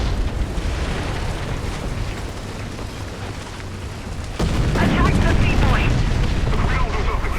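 An 88 mm tank gun firing in War Thunder, a loud broadband blast at about the midpoint that rolls into a sustained rumble over steady engine and battle ambience.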